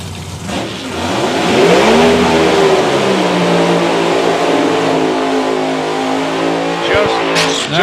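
Drag racing cars at a European drag racing finals do quick burnouts, engines revving hard and roaring loud and close in one sustained blast, with an announcer talking over the noise.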